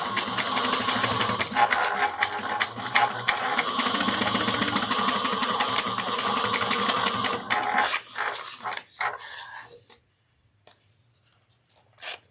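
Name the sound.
sewing a handbag seam with back stitch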